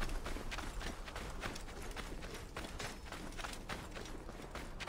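Horse hooves clop at a steady running gait in the Assassin's Creed Origins video game, a dense, continuous pounding blended with creaks and ambient game noise, with no talking.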